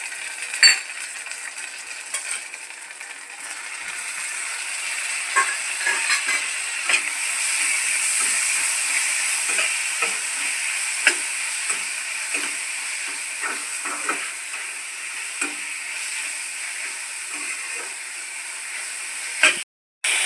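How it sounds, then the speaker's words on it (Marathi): Onion, ginger-garlic paste and tomato sauté in oil for chicken sukka, making a continuous hissing, steamy sizzle with scattered spatula scrapes and taps, close and fairly loud, ending abruptly. "आता आपण अदरक लसूण पेस्ट आणि टोमॅटो टाकून घेत आहोत"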